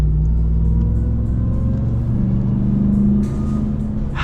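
Supercharged engine of a 2022 RAM 1500 TRX pickup idling with a deep, steady low rumble and a faint whine, close and continuous without talk.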